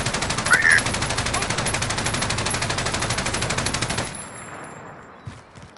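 Automatic gunfire in a shooter video game played in a tournament: a loud, rapid, evenly spaced burst lasting about four seconds, then cutting off to quiet background with a faint knock.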